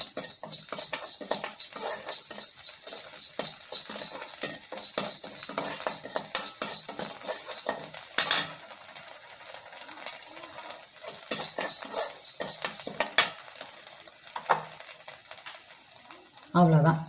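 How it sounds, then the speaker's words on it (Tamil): Rock salt is dry-roasted in a pan for sesame idli podi, with close, continuous scraping and clinking of a metal spatula against the pan and a faint crackle from the grains throughout. "ஃபைனலாக நம்ம எடுத்து வச்சுருக்கிற கல் உப்பு அதை லேசாக வறுத்து வச்சுக்கிடுவோம்."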